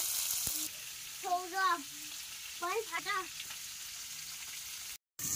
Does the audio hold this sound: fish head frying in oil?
yes